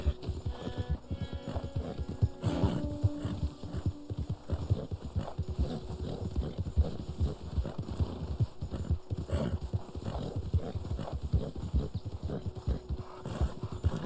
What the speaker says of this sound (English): Which horse are you using now? The Black Arabian horse.